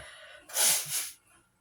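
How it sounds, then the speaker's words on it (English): A single forceful blast of air through the nose, close and brief, trailing off into a softer puff against quiet background. "Excuse me, I gotta blow my nose."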